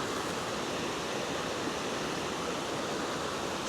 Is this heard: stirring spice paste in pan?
no